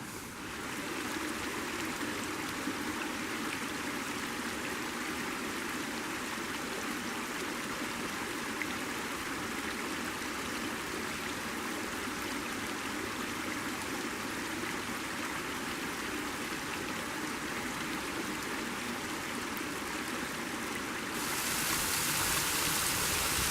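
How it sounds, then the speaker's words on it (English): A small forest stream in Monte Sano State Park, Alabama, runs toward its falls with a steady, close rush of flowing water that holds unbroken throughout. Near the end the rush grows brighter and louder. "We're going to explore this little stream on down a bit."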